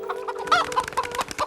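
A chicken clucks in short, close, repeated bursts over a faint steady hum, with no talking.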